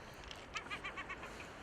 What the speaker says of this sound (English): seagull. Don't answer back either.